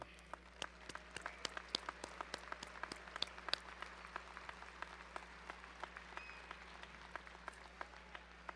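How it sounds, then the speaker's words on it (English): Scattered audience clapping at a high school graduation ceremony, a sparse and fairly faint round of claps with uneven rhythm over a steady low hum, no voices. "Let's give that group a round of applause."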